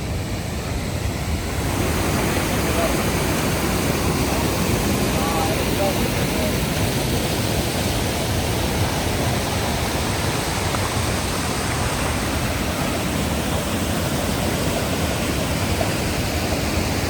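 Waterfall at Bristol Head near Creede, Colorado, heard from the top edge: a steady, loud broadband rush of falling water that holds constant throughout, with slight wind buffeting on the microphone.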